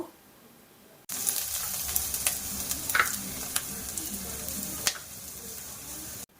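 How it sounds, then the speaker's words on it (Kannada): Onions frying in hot oil for an egg masala, a steady loud sizzle starting abruptly after a second of near-silence and holding for about five seconds, with a few sharp crackles and stirring clicks scattered through it. "ಇದಕ್ಕೆ ನಾನೀಗ ಈರುಳ್ಳಿನ ಹಾಕ್ಕೊಳ್ತಾ ಇದ್ದೀನಿ ಈರುಳ್ಳಿ ಸ್ವಲ್ಪ ಫ್ರೈ ಆಗಬೇಕು"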